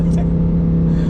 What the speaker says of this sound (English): And that V10 still sounds absolutely insane